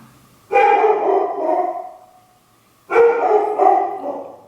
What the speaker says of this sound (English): Of course, my dog is barking.